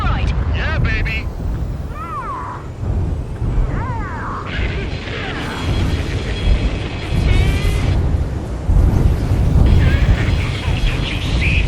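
Loud, continuous rumbling blasts and crashing from Ace Combat 7, a rail cannon being destroyed, with mechanical noise and sweeping tones layered over a dense low roar.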